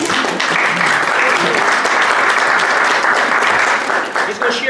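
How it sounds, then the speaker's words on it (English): An audience at a real estate meetup applauds, a steady, dense wash of clapping that holds evenly throughout and fades slightly at the end. "please give him a round of applause"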